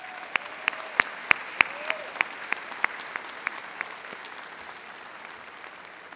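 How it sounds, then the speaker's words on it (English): A commencement crowd gives a round of applause for military graduates, heard as a soft, distant wash of clapping with a series of sharp, louder individual claps standing out near the start before fading. "Let's give them a round of applause."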